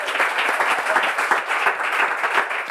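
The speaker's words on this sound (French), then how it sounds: "Mais on peut applaudir bien plus fort que ça" A crowd at a Bible quiz event claps loudly and steadily, a dense continuous round of applause with little else audible.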